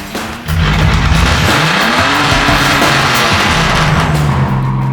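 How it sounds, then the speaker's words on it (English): A Ford AU Falcon cold-starts nearby: a brief crank, then the engine catches loudly and revs up and down in rising and falling swells before settling into a rough idle. "Wanna hear the cold start, mate?"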